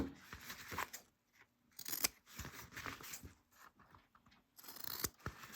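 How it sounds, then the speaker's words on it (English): Scissors snipping the fabric corners of a sewn crossbody bag, a series of close, crisp cuts and short crunching snips in uneven bursts with brief pauses between them. "And then after you do that, we're going to trim our corners down."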